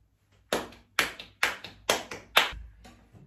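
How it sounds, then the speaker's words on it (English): Six sharp hand claps recorded for a music track, irregularly spaced over about three seconds, loud and close with short room decay and no voices. "claps number eight should do it"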